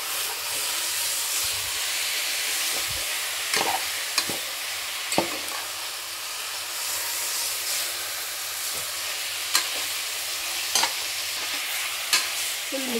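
Chicken for biryani mixed in a hot pan, a continuous close sizzle and hiss of steam punctuated by occasional clanks and scrapes of the spoon, with no voices.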